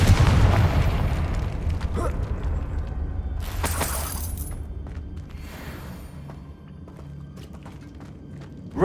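A loud spell blast in the Hogwarts Legacy video game bursts with a heavy boom and shattering crack, followed by rumbling debris and fading game ambience.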